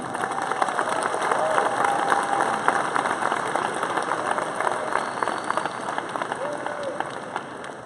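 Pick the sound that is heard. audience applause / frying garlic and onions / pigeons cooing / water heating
audience applause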